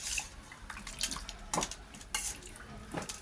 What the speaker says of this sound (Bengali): গরম জল দিয়ে ধুয়ে নিচ্ছি।